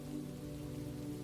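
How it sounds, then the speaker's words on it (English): Gentle rain falls in a steady, soft, even patter, quiet and continuous throughout with no other sounds. "the rain, far away and close by, continued its gentle song"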